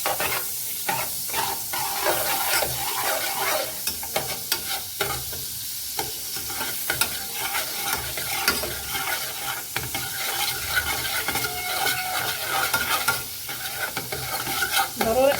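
Butter melting in a pan for a béchamel sauce, stirred steadily with a spoon, giving a continuous close sizzle and hiss with repeated scraping strokes and no talking.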